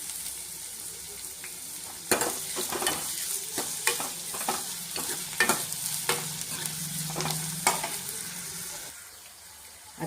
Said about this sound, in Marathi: आता परतून घेऊ कांदे.